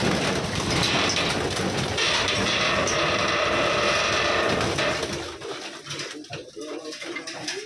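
A big flock of pigeons, including racing flyer birds, makes a dense, loud, steady wash of fluttering and cooing that eases after a few seconds, with people talking nearby.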